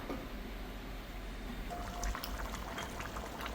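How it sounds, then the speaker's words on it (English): Coconut milk stew simmers in a covered pot with a faint, steady bubbling hiss and a few soft pops, heard up close at low volume. "Cover, and I'm going to allow the coconut milk to cook."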